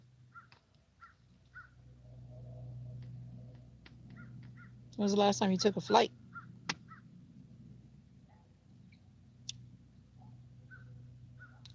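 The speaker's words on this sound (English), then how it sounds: "The birds have got a lot to say today." Crows cawing outdoors in scattered calls, several separate caws spread through the clip under a steady low hum, with a short burst of a person speaking close by in the middle.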